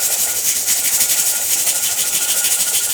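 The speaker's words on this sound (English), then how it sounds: "the steam is starting to get filled up, and the little weight is starting to rattle around a bit" A pressure cooker on an electric stove vents steam in a loud, continuous hiss while its little weight rattles in a rapid, steady pulse, close and alone without speech.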